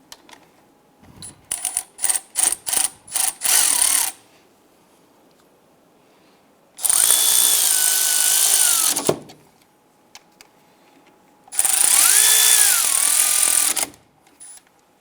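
A tool tightens the front brake caliper bolts on a 2008–2013 Nissan Rogue, giving a run of quick, close ratcheting clicks followed by two longer, loud mechanical whirring bursts separated by silence.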